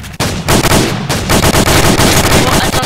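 Gunfire in a video game bursts out loud and close, a dense run of rapid shots with a brief pause, filling the short stretch without talk.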